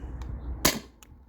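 A single sharp pneumatic shot from a T4E TR68 home defense launcher firing a 9.9 gram riot ball, close and loud, with faint clicks before and after.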